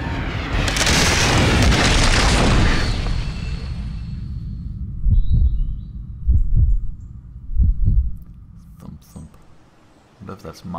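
Deep heartbeat thuds pulse in the fantasy flying game Riders of Icarus, a few heavy low booms spaced out after a loud rumbling blast fades, with game tones scattered around them.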